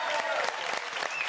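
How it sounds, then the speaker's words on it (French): A studio audience applauds a magician and his partner after a magic act on a French television show, a dense, steady clatter of clapping hands that fills the whole short moment. "Applaudissements pour Adrien Wild et sa partenaire."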